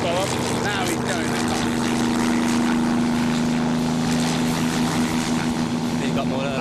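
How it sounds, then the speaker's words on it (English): A homemade scrapheap vehicle's engine revs flat out, a loud sustained droning whine that holds steady and builds, with excited voices talking over it. "The engine is free to breathe and the revs keep building."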